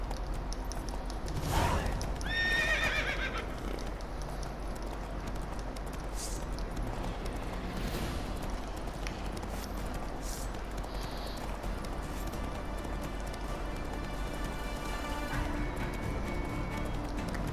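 A horse gallops in The Witcher 3: Wild Hunt, a steady run of hoofbeats under game ambience with a brief whinny early on, all moderately faint and continuous.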